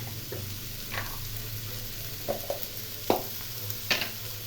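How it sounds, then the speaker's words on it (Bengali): Ash gourd frying in a pan is stirred, a low steady sizzle broken by several sharp scrapes and clinks of the spoon against the pan, close and fairly quiet. "এই সময় খুব ভালো করে নেড়ে দিতে হবে"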